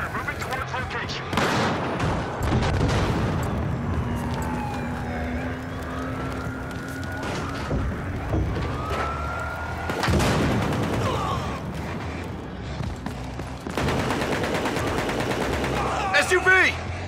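Gunfire in a tactical shooter game, loud rapid bursts and single cracks close by mixed with vehicle engine rumble, continuing under shouted voices, with a dense volley near the end.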